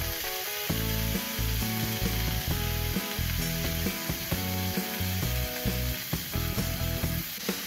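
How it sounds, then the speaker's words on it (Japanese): Pork mince stir-frying in a pan while a spatula breaks it apart: a constant sizzle with repeated scraping and clattering strokes of the spatula against the pan, close and fairly loud, without talk. "豚ミンチを入れていきます。 ヘラでばらしながら炒めていきます。"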